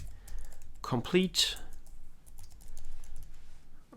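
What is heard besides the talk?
typing on a computer keyboard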